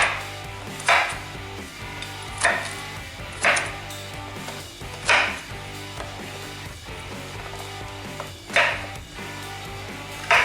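A knife chops vegetables for a rustic venison roast into large pieces, landing about six sharp, widely spaced thunks on a board, close up over a steady background hum.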